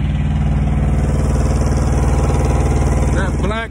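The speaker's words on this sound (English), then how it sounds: "So that sound you're hearing is not the truck. It's the APU running." A truck's auxiliary power unit runs steadily with a low, even engine drone and rattle throughout, loud and close, with a brief higher whine near the end.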